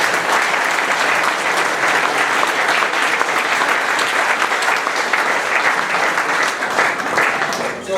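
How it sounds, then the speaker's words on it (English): Loud, dense applause from a crowd at a club's 2014 victory dinner dance, steady clapping throughout with faint voices mixed in, easing just at the close. "they deserve another round of applause there"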